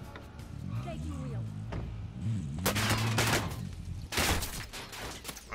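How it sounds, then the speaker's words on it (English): Gunfire aimed at the player in the Warzone video game, several sharp bursts of shots arriving in clusters over a low vehicle hum, with someone talking underneath. "somebody starts taking shots at me"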